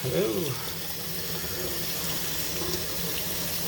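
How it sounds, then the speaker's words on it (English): Tap water runs steadily into a sink as fresh rosemary and basil are rinsed, a continuous close splashing hiss with a brief louder gush at the start. "I also have some other herbs that I'm going to wash."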